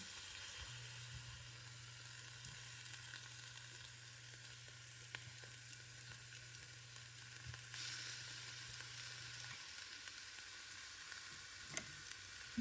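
Chicken sears on a hot grill pan, a faint continuous sizzle and frying crackle with a few small clicks and a steady low hum running through most of it, no talking.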